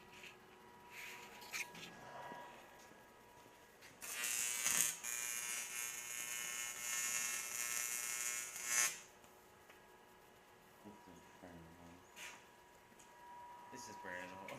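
A stick welding (SMAW) arc burning holes in metal: a harsh crackling hiss that holds for about five seconds between quieter stretches, with voices talking around it.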